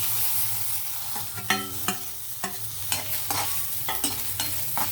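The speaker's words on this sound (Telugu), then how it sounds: "ఇవి కొంచెం హీట్ అయ్యేటప్పుడు మనం కరివేపాకు వేసేద్దాం అలాగే ఇవి వేగేటప్పుడు ఎండుమిర్చి వేసేద్దాం" Curry leaves and dried red chilies frying in hot oil with garlic for a beetroot pachadi, a steady crackling sizzle broken by a series of sharp scraping stirs and clinks close by, with no one talking.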